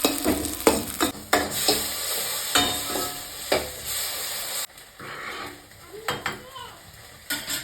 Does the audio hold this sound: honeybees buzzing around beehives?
no